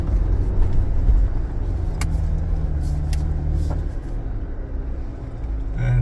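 A Jeep Wrangler Sahara with a 2.0L turbo engine drives over desert dunes, making a steady, loud low rumble of engine and road noise inside the vehicle. A few faint clicks and rattles sound through the drive.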